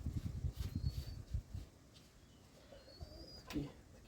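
A wood pigeon coos softly near its chicks in a village setting, a few low muffled calls close by at the start and then fading into quiet rustling with faint distant chirps.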